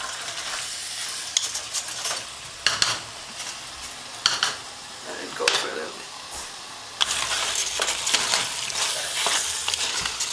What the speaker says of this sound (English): You have to be careful when you let it simmer so it doesn't stick to the bottom.